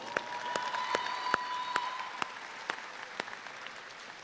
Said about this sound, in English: Help me give them a round of applause, please.